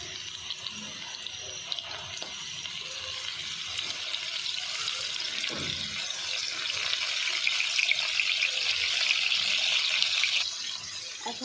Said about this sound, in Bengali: মাছগুলো জাস্ট একটু হালকা ভেজে নিচ্ছি